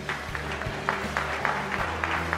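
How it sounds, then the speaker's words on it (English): An audience at a business event applauds, a steady wash of clapping at moderate level, with a low hum and some murmuring underneath. "Can we have a round of applause for Frank and C&D Graphics?"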